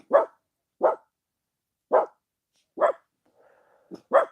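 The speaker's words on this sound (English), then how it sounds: "Barking at nothing again" A dog barks six times in separate single woofs, fairly close and loud, with a brief soft whine between the last barks.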